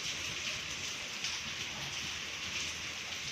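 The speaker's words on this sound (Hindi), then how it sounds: "बिल्कुल पहाड़ों में भी झमाझम बारिश आ रही है और शहरों में भी बारिश आ रही है।" Heavy rain pours down in Delhi, a dense, steady hiss of drops hitting surfaces that stays constant and fairly close throughout, with no voices over it.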